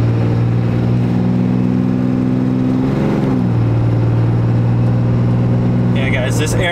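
A 2018 Cummins 6.7 diesel pickup truck fitted with a new air intake, revving loudly and steadily close by, its engine drone rising and dipping once midway before settling back.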